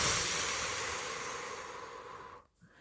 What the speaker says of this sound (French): et soufflez fortement par la bouche.